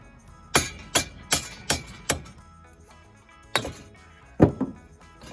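A hammer strikes a stuck front hub on a Chevy Malibu, five sharp metallic blows in quick succession, then a pause and two or three more hits, close and ringing.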